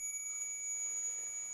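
A faint, thin, high-pitched electronic tone rings steadily from a detector in an abandoned nightclub, held without a break over quiet background.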